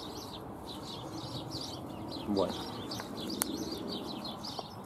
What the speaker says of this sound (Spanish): Fijaros los pajaritos, qué contentos están.